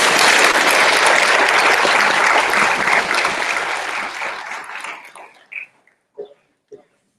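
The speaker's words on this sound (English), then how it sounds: "Let us applaud and welcome him as the sixth president of Stillman College." Sustained audience applause welcoming a new college president at an investiture ceremony, a full, even wash of clapping that tapers off after about five seconds into a few isolated, fading claps.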